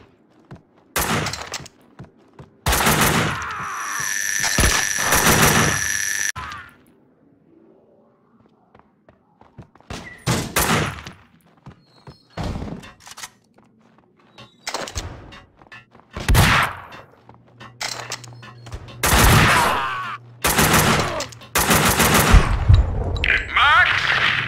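Bursts of automatic gunfire ring out in the Max Payne 2 shootout, several rapid volleys separated by brief gaps, with single heavy shots and thuds in between, loud and close, and a voice speaking briefly.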